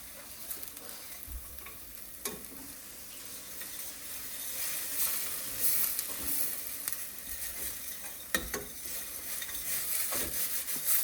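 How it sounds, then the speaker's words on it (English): Food sautéing in a pan gives a steady, moderately loud sizzle, with occasional sharp clicks and scrapes from stirring and no voices. "Make sure you saute it."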